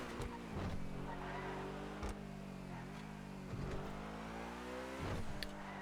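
A video game car circles a hill track at Senora National Motorpark, its engine droning steadily with harmonic pitch shifts as it revs and eases, sliding through drift-like turns, with brief sharp clicks now and then.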